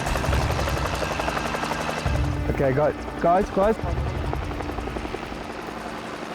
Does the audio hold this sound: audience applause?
no